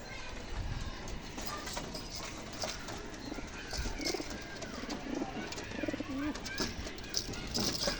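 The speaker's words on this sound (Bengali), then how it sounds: "এখন পায়রা আর এখানে কিছু পায়রা রয়েছে" Tournament pigeons give low, rolling coos near at hand, several short calls overlapping over a steady rumble, with occasional soft knocks and flutters in the background.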